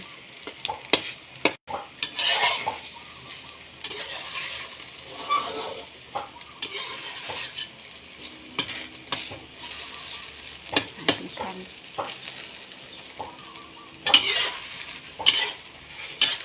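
Tomatoes and shallots fry in a pan with crackling sizzle, broken by stirring scrapes and utensil clatter against the pan, close and fairly loud, with no talk.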